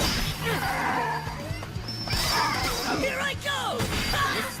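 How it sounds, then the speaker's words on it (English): Sword thrust impacts in a dubbed fantasy anime battle, sharp crashing hits and whooshes layered over dramatic music, with voices talking and shouting throughout. "This is Moguzo's new fast thrust."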